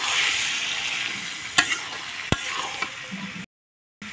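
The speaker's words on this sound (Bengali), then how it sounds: "একটু লাড়ে দেবো।" Olives being stirred into garlic frying in oil for olive pickle: a steady close hiss of sizzling oil with a few sharp spoon clacks against the pan, then a sudden cut to silence before a short return.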